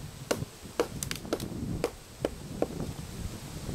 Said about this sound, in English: you kinda have to tap those in